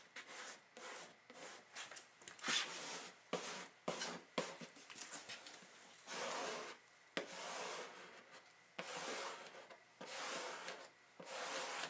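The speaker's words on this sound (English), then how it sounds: "this nice squeegee. Helps to smooth it down." A borrowed squeegee rubs a freshly applied decal smooth, giving repeated short scraping strokes in uneven bursts, fairly close and quiet, with no talking.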